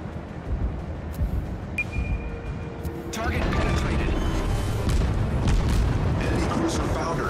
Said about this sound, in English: Four out of six torpedoes hit the enemy cruiser and battleship.